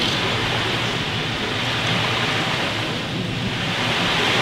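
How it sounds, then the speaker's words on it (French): A steady, continuous rush of ocean waves, played as a sound effect during an end-of-term music class show, even and unbroken with no voices. "Les vagues se bercent lentement."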